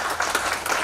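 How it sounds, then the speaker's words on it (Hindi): A short, muffled patter of audience clapping in a conference hall, several hands striking together at moderate volume for under a second. "तालियां बजाओ इस बात के ऊपर।"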